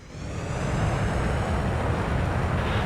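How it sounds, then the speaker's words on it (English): A fighter jet engine in the flight game Flyout throttles up on the runway. Its broadband roar swells over the first second and then holds at a steady, loud rumble with no speech. "Let's throttle up and see what this thing can do."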